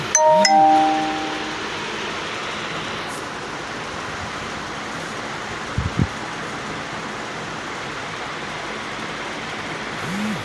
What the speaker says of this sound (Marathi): मिरची आहे ती आपण मिक्सरला बारीक करून घेऊया पाणी घालून